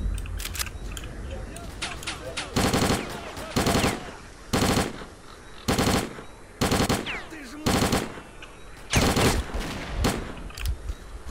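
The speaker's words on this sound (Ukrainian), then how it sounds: "ліпше стріляють, ніж я з цього, з гадюки" Gunfire in the shooter game S.T.A.L.K.E.R. Clear Sky comes as a series of loud, sharp single shots and short bursts at irregular intervals, over steady background noise.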